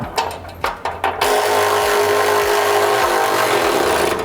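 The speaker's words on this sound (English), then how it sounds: "Now I'm just going to go ahead and tighten up the front." A power tool tightens the front bolts of a side step on a Ford Ranger, with several short whirring bursts first, then a sustained loud, close mechanical drone carrying repeated pitch steps as the bolt runs in.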